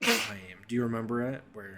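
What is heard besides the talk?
sneeze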